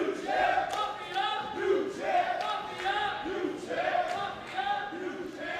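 A wrestling arena crowd chants "new champ" in a loud, rhythmic, repeating cadence, many voices rising and falling together in regular waves.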